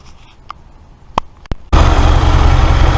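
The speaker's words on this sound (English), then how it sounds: "I'm just going to run the bike up for 5 minutes" A few clicks and knocks, then a motorcycle engine abruptly starts and keeps running loudly with a steady, low rumble close by.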